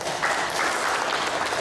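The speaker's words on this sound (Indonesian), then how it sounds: "Tepuk tangan." Audience applause fills a workshop opening for early-childhood teachers in Rote Ndao, a steady dense wash of many hands clapping at once, continuous and moderately loud throughout with no voices on top.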